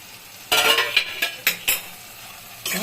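A lid comes off a pot of tomatoes simmering on a low gas flame for a pointed gourd and yogurt curry, giving a short run of close metallic clanks and scrapes, then a final clatter.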